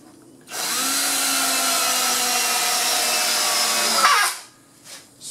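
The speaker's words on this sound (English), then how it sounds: "I'm just going to run some screws down through here. These are 4-inch screws." A power drill drives 4-inch screws through pre-drilled cedar garden bench boards, one loud continuous whirring run of about three and a half seconds, close up, ending with a brief clunk and fade.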